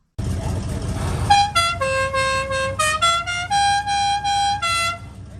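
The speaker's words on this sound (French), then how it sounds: "Je vais vous mettre en montage vidéo le vrai klaxon." A loud multi-tone Dixie air horn plays the short "Dixie Land" melody, a rapid sequence of bright brassy notes, following a burst of engine rumble.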